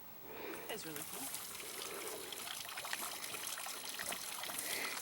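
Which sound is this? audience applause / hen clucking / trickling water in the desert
trickling water in the desert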